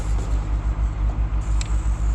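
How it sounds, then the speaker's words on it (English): A fire truck engine idles nearby with a steady, loud low-pitched rumble that pulses evenly throughout, without any talk over it. "we got the fire truck going"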